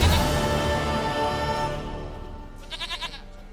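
Goat bleats in the Witcher 3 video game: a dense game soundscape at first, then a short run of three or four quick, wavering bleats near the end, fairly close and clear.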